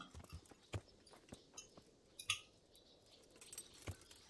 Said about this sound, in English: Vem aqui, cavalinho.